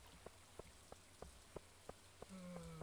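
Rain falls steadily in Stardew Valley as a soft, even patter, with a regular ticking of light taps running across it and a low tone coming in near the end.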